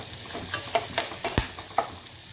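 A few curry leaves stirred into hot oil give a short, close sizzle with several sharp crackles and pops over a soft hiss.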